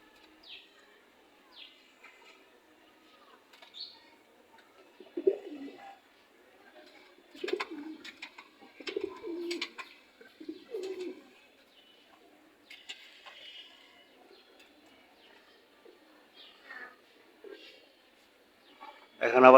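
Pigeons around a house coo in short, soft bursts with flutters between, fairly faint and spaced out, while a person talks intermittently.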